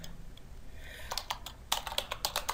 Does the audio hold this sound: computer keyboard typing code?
yes